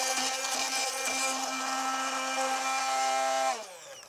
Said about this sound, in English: 2 egg yolks. And I just want to blend this to break it up.